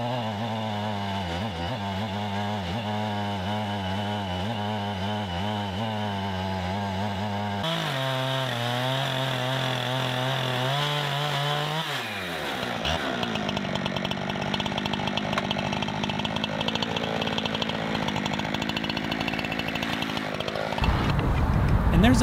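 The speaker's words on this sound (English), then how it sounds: "these aluminum rails will glide along the top edge of the slab and give you a nice flat surface" An Alaskan chainsaw mill with aluminum rails cuts a log into slabs, the chainsaw engine droning loudly and steadily, its pitch shifting as it idles and then bites into the wood, rising to full throttle at the end.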